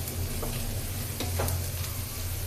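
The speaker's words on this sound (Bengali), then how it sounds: "একদম ভাজা ভাজা করে নিলাম।" Turmeric-spiced haldi biran frying in a pan, a steady close sizzle with a few scraping stirs of the spoon, alone and without talk.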